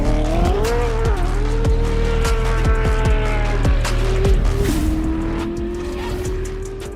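A Koenigsegg Jesko Absolut hypercar launches hard off the line. The engine climbs through rapid gear changes with some tire noise, loud and continuous throughout.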